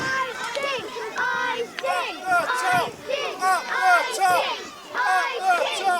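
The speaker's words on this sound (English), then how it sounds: "Crowd chanting up the top with some encouragement from" A crowd at a British independent pro wrestling show chants loudly and rhythmically in repeated bursts, many voices shouting together in an indoor venue, with a commentator's voice mixed in.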